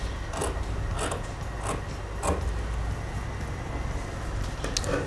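Scissors cutting through several layers of fabric along the back neckline of a men's garment pattern piece, giving soft repeated snips and rasping slides spaced about every half second, close and steady with no talk.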